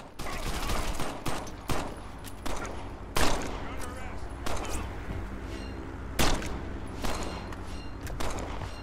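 Gunfire in the open-world game Crackdown: several loud, sharp blasts spaced a second or more apart over a constant noisy backdrop, with a person talking throughout.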